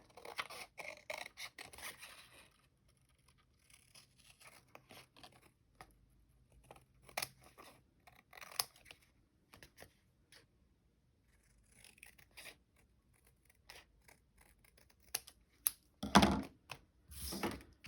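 Scissors snip around the edge of a paper tag in a series of quiet, irregular close-up cuts with short pauses between, ending in a louder rustle of paper handling.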